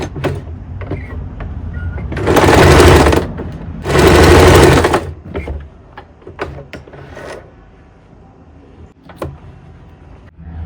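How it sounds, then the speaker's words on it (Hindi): A sewing machine stitches around a kurti neck in two loud, rapid bursts, each about a second long, followed by quieter handling clicks and fabric rustle close by. "अब हम इसके राउंड में सिलाई लगा लेते हैं।"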